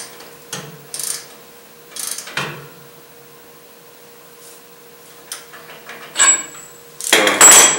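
A custom-made tool turns the differential carrier bearing adjuster on a Dodge RAM, giving sharp metallic clicks and clanks at irregular intervals, close and loud, with a faint steady hum between them and a busier clatter at the end.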